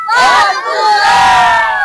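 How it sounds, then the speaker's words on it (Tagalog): A crowd gathered for a tilapia and rice giveaway in Sitio Malabon lets out one loud, sustained collective shout, many voices together, close and filling the whole moment. "Isang sigaw nga, Boss Bunsoy!"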